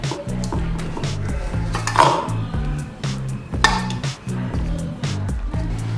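Ragi puttu being stirred with sugar and grated coconut in a bowl, steady close clinks and scrapes of a utensil repeating in an even rhythm, with faint background music underneath.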